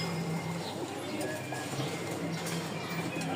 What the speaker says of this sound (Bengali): এখানে 2 পিচ কবুতর আছে মাশাআল্লাহ